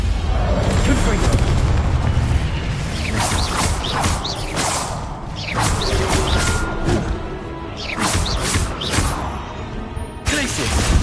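Confringo blasting spell from Hogwarts Legacy, booming explosions and whooshes repeating through a dense, loud battle mix with spell-casting voices and combat noise throughout.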